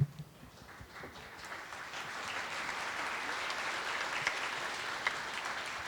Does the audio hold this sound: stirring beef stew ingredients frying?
no